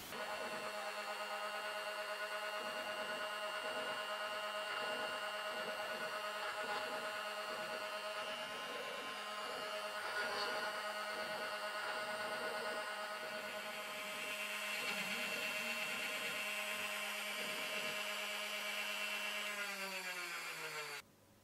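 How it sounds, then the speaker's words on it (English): Steady high whine of a CNC router spindle spinning a 3 mm upcut spiral bit while clearing a wooden V-carve inlay, with a constant cutting rasp that swells and fades slightly before cutting off at the end. "I've now changed the cutter for a 3 millimeter upcutting spiral bit to clear the remainder of material from the V-carve."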